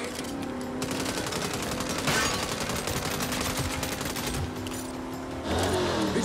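Gunfire in the Saints Row reboot shooter game: rapid bursts of machine-gun fire pile into a continuous, dense fusillade that runs the whole time at a moderate level, with no voices heard.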